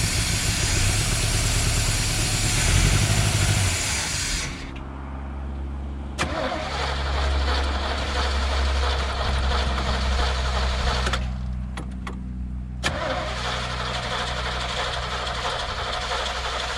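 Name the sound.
abandoned Chevy Vega 350 engine starting by releasing clutch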